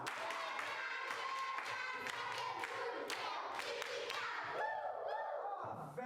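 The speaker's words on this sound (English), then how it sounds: "Let's clap for her." A class of pupils at a riverside school claps together for a classmate, a brisk burst of applause mixed with voices.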